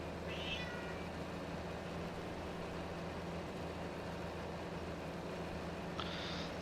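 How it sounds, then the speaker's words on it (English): Cat at a desk gives two brief meows, one near the start and one near the end, over a steady engine-like drone from a farming game. "cat at my desk now"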